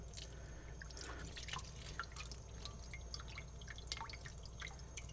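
A thin trickle of water runs from a kitchen tap while hard-boiled eggs are peeled for chicken egg salad, with soft irregular drips and splashes over a steady low hum, close and fairly quiet, and no talking.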